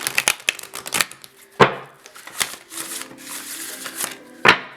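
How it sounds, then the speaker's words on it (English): Tarot cards being shuffled by hand in a series of crisp riffling bursts and soft slaps, with a few sharper snaps standing out between quieter rustles, close and alone with no talk. "When I'm done shuffling"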